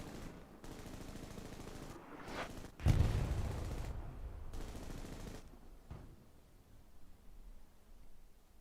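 Machine gun fire in a tactical multiplayer video game: a continuous rattling barrage that peaks in a loud close burst, then fades into distant gunfire and ambient battlefield noise.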